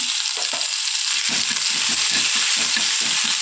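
Mustard seeds and cumin sizzle in hot oil with a loud, steady hiss, broken by a rapid run of small popping crackles from the spluttering seeds.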